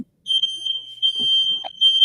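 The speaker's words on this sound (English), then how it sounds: "My fire alarm's going off." A smoke alarm beeps in a loud, piercing, steady high tone that cuts out briefly and resumes, with faint voices and small noises underneath.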